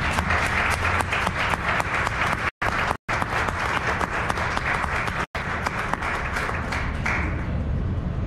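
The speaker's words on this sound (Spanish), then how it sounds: "¿Por qué no le dan un fuerte aplauso a Jesús?" A church congregation claps loudly and continuously, dense hand claps filling the room with only brief breaks in the sound.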